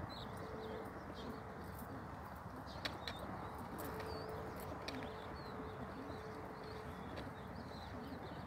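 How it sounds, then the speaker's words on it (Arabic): Racing pigeons just released on a 35 km training flight coo softly in short, faint calls over a constant outdoor rumble, with a few sharp clicks and taps mixed in. "سوف يتم الآن إطلاق سراح الحمام"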